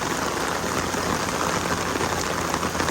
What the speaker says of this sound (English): this is the most rain in a very short amount of time